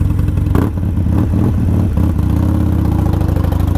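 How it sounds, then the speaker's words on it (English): Harley Davidson motorcycle engine idles close by with a loud, steady lumpy rumble and some mechanical clatter, continuous and without speech. "Bike is running."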